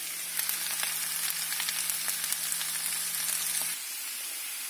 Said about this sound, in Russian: Продолжаем жарить картошку.